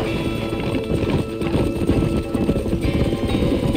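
Horses gallop in the video game Red Dead Redemption, a dense, steady drumming of hooves close by, loud and continuous under a busy wash of other game noise.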